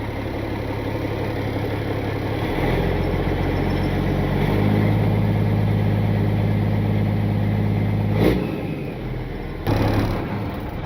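A used truck at an equipment auction sits with its engine running, a steady low idle rumble that rises slightly partway through, with a couple of brief bumps near the end.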